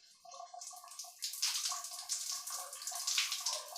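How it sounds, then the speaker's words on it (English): Water streams steadily from a tap onto hair being soaked before shampooing, a soft, continuous splashing rush that swells slightly midway, with no talking. "So I'm soaking my hair."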